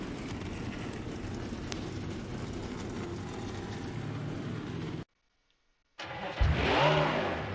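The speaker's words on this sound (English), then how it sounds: "We got all the cars fired up, including the LT base." Stock race car engines from the NASCAR Heat 5 game firing up at Charlotte Motor Speedway, a dense loud drone of many motors, then a brief silence before a single engine roars back in with rising revs, close and alone.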